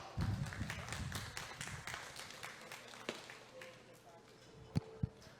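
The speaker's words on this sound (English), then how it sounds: "So let's give him another nice big round of applause" Applause from the crowd at a junior fair steer show in a barn, scattered claps fading out, followed by a few sharp knocks and taps near the end, with voices underneath.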